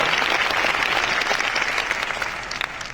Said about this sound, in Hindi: मैं अपने माता पिता के लिए अभी तक की जोरदार ताली दोस्तों